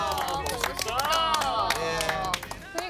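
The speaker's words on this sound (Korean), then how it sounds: "아유, 박수 한번 주세요." Clapping from a studio audience on a military-themed TV talk show, scattered hand claps rising under lively chatter and laughter, with voices prominent throughout.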